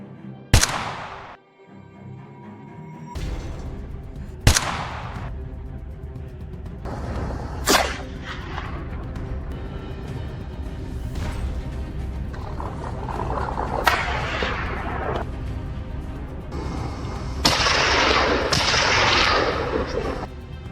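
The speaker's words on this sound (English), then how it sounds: "A gunshot rang out, and he immediately chased after the fleeing animals." Rifle shots fired at wild boars on a snowy hillside during a feral hog cull: four or five sharp, loud cracks spaced a few seconds apart, each with a brief echoing tail, over steady outdoor background noise.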